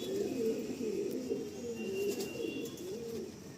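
A pigeon in a pigeon loft coos in soft, repeated rolling phrases, close but quiet, with a faint background hiss and no talk.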